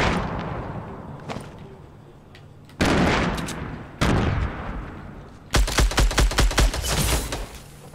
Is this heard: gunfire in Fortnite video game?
yes